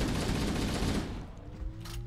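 Video game gunfire rattles in a dense, loud burst of rapid shots that thins out into quieter scattered noise and faint tones after about a second.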